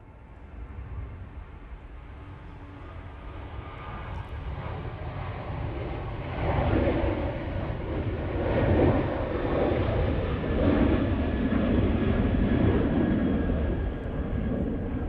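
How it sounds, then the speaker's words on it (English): A Ryanair Boeing 737-800 rolls for takeoff at Manchester Airport, its jet engines swelling from a distant rumble into a loud, broad roar that holds and slowly shifts, heard from afar without voices. "Ryanair now on the roll, off to Girona using the 737-800."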